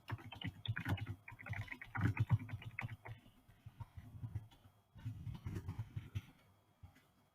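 Faint, close computer keyboard typing comes in two quick bursts of rapid key clicks separated by a short pause as an organization name is entered.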